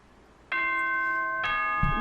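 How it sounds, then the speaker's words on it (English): Two bright electronic doorbell chimes ring out in the Danganronpa 2 video game, a sustained ding followed by a second tone about a second later, loud and clean with nothing else heard. "Ding dong."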